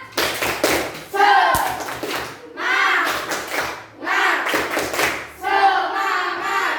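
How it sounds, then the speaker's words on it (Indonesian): A classroom of students claps out a rhythmic spirit clap in several quick bursts of hand claps, with short pauses between the patterns. "Sekarang sekali untuk tepuk semangat."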